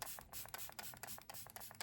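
Short pumps of makeup setting spray hit the face in quick succession: a rapid, steady run of soft, breathy hisses close to the mic.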